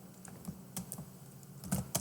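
Quiet keyboard taps while working in a Linux terminal, a handful of scattered clicks over a low room hum, with a slightly louder cluster at the end.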